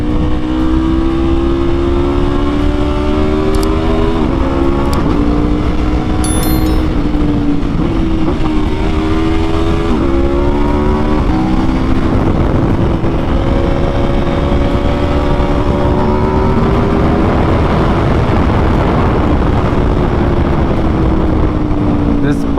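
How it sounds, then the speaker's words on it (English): A 2022 Aprilia RSV4 1100 Factory motorcycle with an Akrapovic exhaust roars close by, its engine note repeatedly rising and falling through loud revs and gear changes, a continuous powerful drone across the whole stretch. "Let's see if we can hear this Akrapovic."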